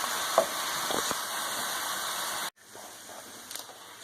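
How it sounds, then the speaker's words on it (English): Ground beef fries on medium in a pan on a gas stove, a steady close sizzle with a few stirring scrapes, briefly breaking off and then resuming more softly. "There's fat in the beef and there's water, and this is cooking on medium."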